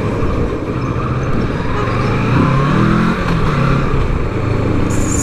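Kawasaki 650 Tourer motorcycle riding through city streets, its engine a steady, loud rumble with a slight rise in revs midway and traffic noise around it.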